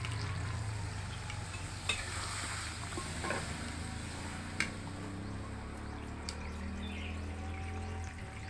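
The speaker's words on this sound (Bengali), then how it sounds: "এখন জল দিয়ে দেবো।" Water poured into a frying spiced potato masala for dum aloo sets off a steady, hissing sizzle with occasional stirring scrapes, close and continuous with no talking.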